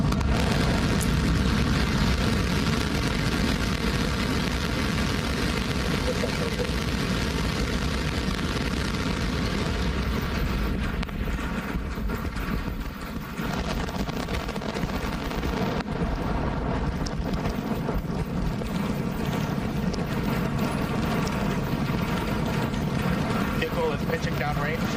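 A SpaceX Starship megarocket lifts off on a test flight with a continuous, heavy broadband roar that rumbles steadily for the full stretch. Faint voices mix in beneath it.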